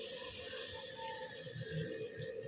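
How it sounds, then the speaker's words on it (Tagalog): Water poured into a cooking pan while making sautéed cabbage, a steady close splashing gush that continues unbroken throughout. "lalagyan natin ng tubig"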